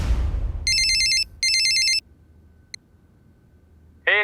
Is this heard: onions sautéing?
no